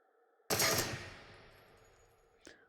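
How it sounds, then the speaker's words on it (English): A gun fires at a shooting range in the VR game Into The Radius: one sharp, loud burst that rings out into a long fading reverberation, followed by a faint mechanical click. "The recoil definitely shifts it as you shoot in auto"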